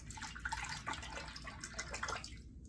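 Tap water running over a double-edge safety razor as it is rinsed clean, a steady splashing hiss with small drips and clinks, close and alone without voices.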